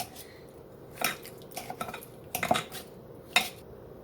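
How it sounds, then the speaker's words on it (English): Apples are chopped into smaller pieces in a bowl, giving a few scattered, quiet knocks and scraping clinks of a utensil against the dish, spaced irregularly with no talking. "I'm going to chop them up some into smaller pieces."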